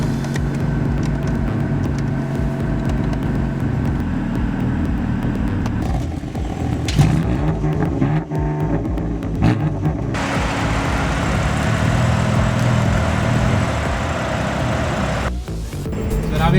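BMW M3 with twin-turbo inline six, rear-wheel drive and seven-speed twin-clutch gearbox at a drag race on an airstrip, a loud steady engine drone held near, shifting in tone midway with rattles and a brief dip, faint talk underneath.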